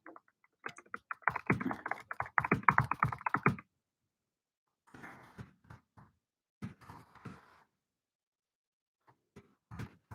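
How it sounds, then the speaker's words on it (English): Computer keyboard typing in a quiet room: a dense run of quick key clicks, then a pause and several shorter scattered bursts of tapping, close and fairly soft with no talking. "I'm going to be just typing chat into the live chat of YouTube"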